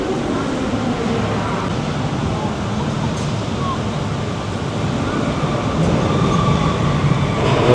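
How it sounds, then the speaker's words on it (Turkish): Loud, steady rumble of a ride train rolling through the middle of the indoor Ferrari World Abu Dhabi theme park, a continuous roar with voices faintly mixed in. "Burada böyle yine mekanın ortasından böyle trenler geliyor, gidiyor, geçiyor."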